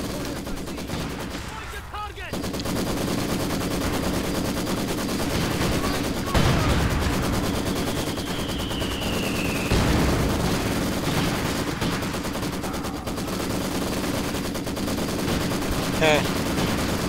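Heavy machine gun fire in a wartime strategy game, sustained rattling bursts under constant battle noise with occasional louder bangs and faint voices.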